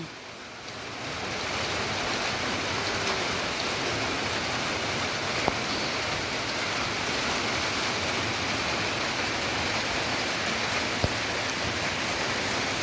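Steady rain falls in a continuous, even hiss across the whole span, with a couple of faint clicks and no voices.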